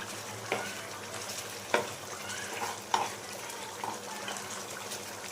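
Mutton chukka with kasuri methi being stirred in a pan, a soft steady sizzle with a few distinct scrapes and knocks of a spoon, fairly quiet and close.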